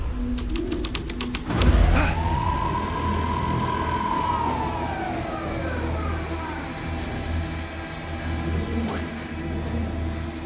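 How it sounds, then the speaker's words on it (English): In the video game Alan Wake 2, a police car siren gives one long rising and falling wail over a constant low rumble. It sounds mid-distance and carries on beneath steady background noise. "The police car, not important to the story."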